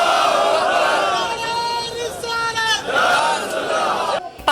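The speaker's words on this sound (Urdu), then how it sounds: "کراچی تا خیبر لوگ سڑکوں پر نکلے اور اسرائیل کے خلاف نعرے بازی کی۔" A large crowd at a protest rally in Pakistan loudly chants slogans against Israel in support of Palestinians, a dense, sustained roar of many voices rising and falling in waves throughout, close and loud.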